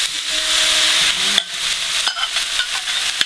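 Rice noodles hit a smoking-hot oiled wok with a steady, close hiss, followed by scraping and tossing stirs that interrupt the sizzle partway through.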